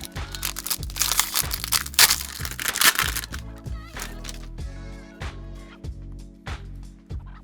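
Crinkly foil wrapper of a Pokémon Ascended Heroes trading card pack being torn open, loud crackling rips in the first few seconds, followed by softer rustling and repeated low thumps as cards are handled.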